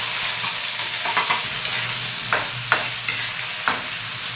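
Garlic, onion and ginger sizzle in hot oil in a wok, a loud, constant hiss broken by a few scraping stirs of a utensil, with no talking.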